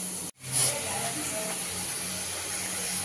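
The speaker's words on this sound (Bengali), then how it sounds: "তো আলুগুলো দেখো ভাজা হচ্ছে" Potatoes frying in hot oil in a pan, a steady close sizzle and hiss running throughout after a brief dip near the start.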